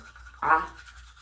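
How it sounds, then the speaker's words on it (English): A single short scrub of a pink toothbrush on teeth, a brief close bristly swish lasting a fraction of a second in an otherwise quiet room. "I'm going in and brushing away the pink spots"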